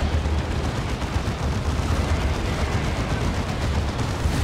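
Artillery fire from an Eldar D-Cannon in a 3v3 Warhammer 40,000: Dawn of War 2 battle, heard as a dense, continuous roar of rumbling blasts and gunfire with no clear gaps, loud and steady throughout.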